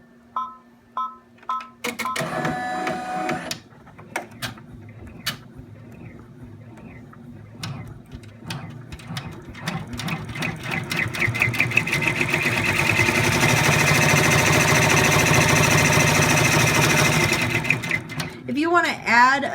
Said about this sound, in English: Now we're going to run the placement stitch for our pocket.